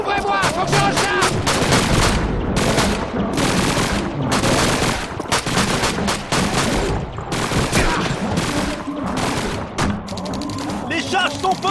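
Dense, rapid gunfire fills a multiplayer video game battle, overlapping automatic bursts and sharp single shots crackling loudly almost without pause, with heavier booms mixed in.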